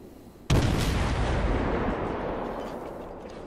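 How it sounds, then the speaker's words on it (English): A naval gun on an American Mahan tier 7 destroyer fires long range in World of Warships: one sudden loud boom followed by a long rumbling decay that fades over about three seconds, with no voices. "So doing some long range fire at this guy"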